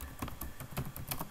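Keys clatter on a computer keyboard while someone writes Python code, a brief run of quiet, irregular clicks in close succession with no voices.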